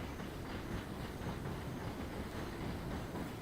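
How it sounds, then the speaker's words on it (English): Steam train rolling along in the video game Dinkum, a steady loud rumble of wheels and rail noise filling the whole stretch with no talk over it. "So, train goes... Oh, it goes quite fast, actually. Oh, there's steam! Choo-choo!"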